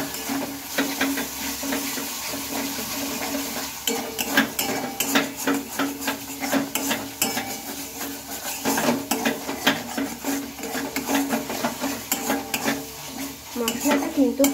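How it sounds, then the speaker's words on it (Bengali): Potato masala for achari aloo dum, with a little sugar added, stirred steadily in a pan: continuous close scraping and clinking of a spoon against metal over a low sizzle. "চিনিটা দিয়ে আবার একটু ভালোভাবে আমি নেড়ে চেড়ে নেব"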